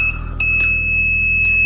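EGS002 inverter driver board buzzer giving its overcurrent warning, a loud steady high-pitched electronic tone sounding continuously with faint clicks beneath it.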